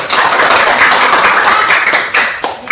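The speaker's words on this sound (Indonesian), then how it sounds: "Kasih tepuk tangan dulu untuk semuanya" Loud, dense clapping from students in a classroom, a continuous close burst of many hands that holds steady and then tapers off near the end.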